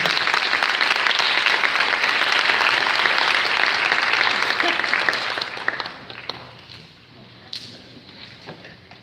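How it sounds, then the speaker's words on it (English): An audience at a graduation pinning ceremony claps for speaker Billy Davis, a dense, full round of applause that holds steady, then thins out and fades over the last few seconds, with a voice briefly audible at the end. "If we could please give Mr. Billy a round of applause again."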